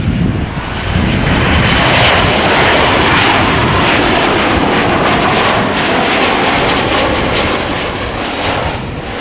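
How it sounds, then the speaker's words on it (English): A KLM Boeing 737-800 jet airliner arriving from Porto, Portugal roars steadily and loudly overhead, a broad sustained engine rush with no voices. "KLM flight 1570. Arriving from Porto in Portugal. 737-800."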